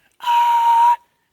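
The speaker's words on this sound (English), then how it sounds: "what I know about this throat whistle technique so far" A throat whistle made without using the lips: one steady, clear, high whistle tone with a breathy hiss around it, held for just under a second and then stopping cleanly.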